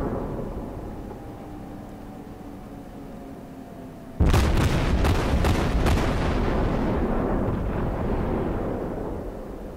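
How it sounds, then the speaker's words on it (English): The guns of a Cleveland cruiser in World of Warships fire HE shells, a sudden heavy boom cluster of several rapid blasts after a quiet stretch, followed by a long rumbling decay. "Looks like we get some shots off on this guy now."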